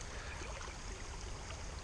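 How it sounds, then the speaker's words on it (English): A small Midwestern creek flows steadily around someone wading through it, making a continuous close rushing and burbling wash with no talk. "wading up and down a small creek in the Midwest"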